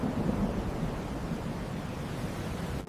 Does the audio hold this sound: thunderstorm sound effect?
yes